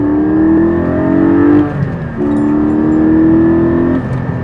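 A Porsche 718 Spyder sports car engine revs hard under acceleration while driving, its rising tone cut by a brief gear change, loud and close with no voices.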